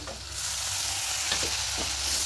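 Ground spices and water are sautéed in a pan over a steady, fairly quiet sizzle, with a low hum underneath and a few soft scraping stirs.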